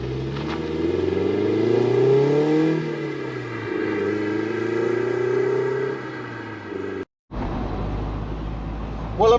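A Toyota MR2 Mk3 is driven hard on a hilltop road, its engine rising steadily through the revs, easing off, then building again. The sound is loud and close throughout, with a brief dropout near the end.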